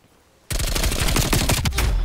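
Sustained automatic gunfire in Black Ops Cold War Search and Destroy on the Raid map, starting abruptly after a quiet half-second and continuing as dense, loud rapid bursts to the end.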